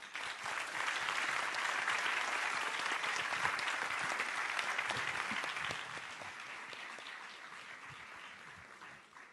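Audience at a talk on Fayrouz at the Institut du Monde Arabe in Paris applauding, a dense sustained clapping that swells early and slowly thins toward the end.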